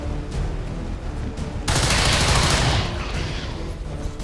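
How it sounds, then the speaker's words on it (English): Gunfire in the strategy game XCOM: a sustained loud volley of overlapping shots bursts in partway through, over a continuous busy background of game noise, then eases off toward the end. "Okay, you shoot this one"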